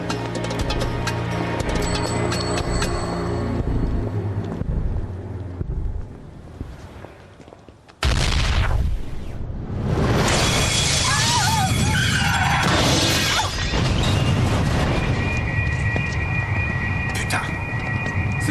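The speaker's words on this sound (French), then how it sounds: "Forte explosion devant la sortie du métro, station Liverpool Street" A loud dramatized explosion erupts outside the exit of Liverpool Street station on the London metro, a sudden broadband blast with rumbling debris and crashing that follows calmer station ambience, with a voice speaking.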